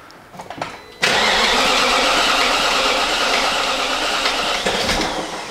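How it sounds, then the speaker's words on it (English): A BMW E38 with a swapped-in 4.6 engine cranks briefly and fires into a loud, steady idle close by, then the roar tapers slightly near the end. "I'm gonna start it for a second and switch it off"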